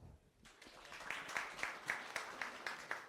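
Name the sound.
audience applause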